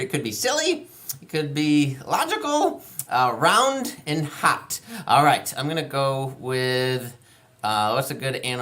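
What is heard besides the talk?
No everyday noise stands out behind the speech.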